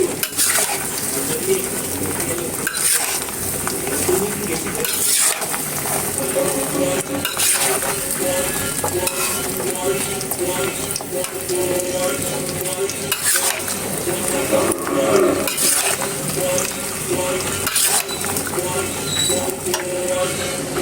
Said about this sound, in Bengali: এই যে তেলের মধ্যে আমগুলো দিয়ে নিছি